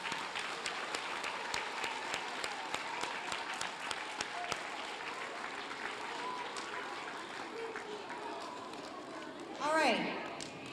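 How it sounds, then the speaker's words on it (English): A school audience at a Blue Ribbon celebration claps in a sustained, even round of applause that fills the hall, tapering near the end as a brief whoop or cheer rises over it. "Give yourselves a round of applause."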